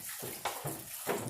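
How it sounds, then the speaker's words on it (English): Water poured into a bucket for window cleaning at home, with splashy gushes in short repeated bursts, close and fairly loud. "I have poured the water in, something you may have heard but not seen"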